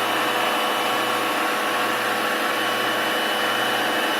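A Sebo X4 Pet Edition upright vacuum cleaner runs with a steady, loud, broadband motor roar, close and unchanging, with no voices.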